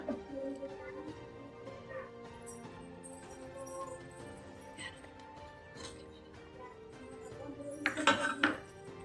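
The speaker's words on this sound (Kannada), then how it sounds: "ಒಂದು ಬಾಂಡಲಿಗೆ 1 ಕಪ್ಪು ಕಡಲೆ ಹಿಟ್ಟು ಹಾಕಿ ಹುರಿಯೋಣ" A metal ladle or spoon scrapes and clinks against a pan as gram flour is roasted with ghee in a home kitchen, with irregular knocks, a louder clatter near the end and faint background noise.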